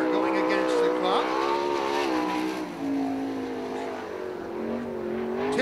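Sprint car at Attica Raceway Park on an All Star Sprints time-trial night, engine droning steadily as it runs down the back straightaway, a loud sustained roar with shifting pitch under a track announcer's voice.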